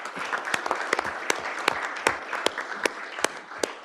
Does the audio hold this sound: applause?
yes